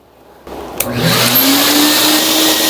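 A twin-motor vacuum cleaner of about 2700 W switching on: a click, then the motor spins up into a loud, steady high-pitched whine and roar that holds constant.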